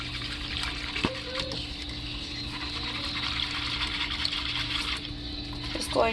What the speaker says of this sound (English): I'm going to go ahead and get this poured in there.